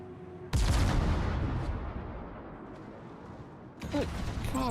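Artillery shells fired in a naval video game: a loud, sudden boom whose rumble slowly decays, followed by a second blast near the end, with no talk.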